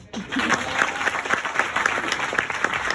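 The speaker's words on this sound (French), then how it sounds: "Applaudissez pour Younes." A crowd claps steadily and densely for Younes, a comedian from Morocco performing on a French stage, with a brief voice at the very start before the applause fills the room for three seconds.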